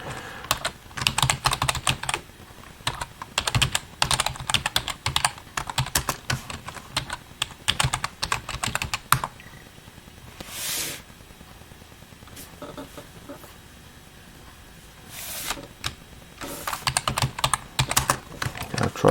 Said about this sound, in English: I typed it in wrong